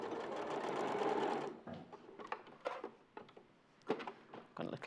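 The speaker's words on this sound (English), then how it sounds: "Fold it over lengthways and just sew across one end and down the side" A sewing machine stitches across the end and down the side of a folded fabric tail piece, running steadily for over a second, then in short separate bursts of stitching with brief pauses between.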